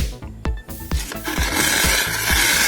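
A small plastic hand-operated ice gola machine shaves a block of ice at home, giving loud, close, rhythmic grinding and rasping strokes that repeat about twice a second and blend into a steady scraping noise.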